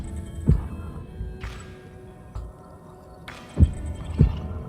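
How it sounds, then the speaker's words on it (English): Slow, deep heartbeat thumps in the opening scene of the E3 2019 trailer for the Zelda: Breath of the Wild sequel, a few spaced beats rising over a low, steady ambient hum. "Yes, that's a heartbeat."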